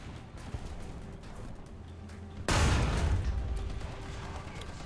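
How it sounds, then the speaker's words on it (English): An artillery barrage in a video game hits suddenly midway through, a loud broad rumbling roar that holds and slowly eases over quiet background game noise. "Oh no, artillery barrage."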